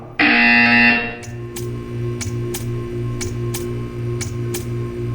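A loud, harsh electronic buzzer in Portal 2 blares for about a second, then gives way to a steady low machine hum with a series of regular sharp clicks ticking over it.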